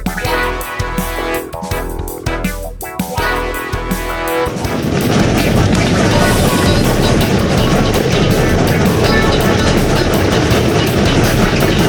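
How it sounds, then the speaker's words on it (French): A steam train in Chehalis, Washington, close and loud, first gives irregular clanking and chuffing beats, then breaks into a sustained, roaring hiss of steam that fills the rest of the stretch. "Ah, c'est un train à vapeur!"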